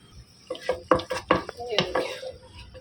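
Onions softening in ghee in a pan for an aloo baingan dish, heard as a few clinks and scrapes of a utensil stirring against the pan over a faint sizzle, fairly quiet and close.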